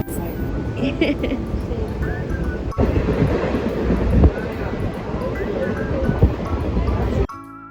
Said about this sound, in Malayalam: ഞങ്ങൾ ട്രെയിനിൽ കോട്ടയത്തോട്ട് പോയിക്കൊണ്ടിരിക്കുവാണ്